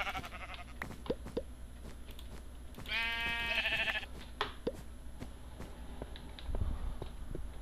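A sheep in the video game Minecraft gives one wavering bleat near the middle, set among soft clicking game sounds and footsteps.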